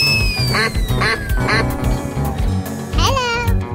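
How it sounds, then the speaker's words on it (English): A cartoon-style duck quacks several times in quick bursts over busy game music with sound effects, from an animal-guessing escape room challenge. "Duck."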